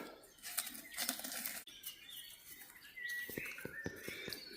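A small bird scratches about and flutters behind a garden cottage, with soft wing flaps and rustles near the start, then light chirps and scratchy pecking taps.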